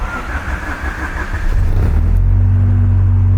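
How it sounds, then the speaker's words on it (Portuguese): A naturally aspirated Honda Civic VTi with a B16 engine and electronic throttle body catches and starts, its rumble building from cranking into a steady, loud, close idle. "O carro pega muito fácil, tá vendo?"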